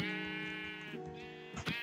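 A Minecraft sheep bleats up close in a long, wavering call, followed by a short second bleat, with faint game ambience behind.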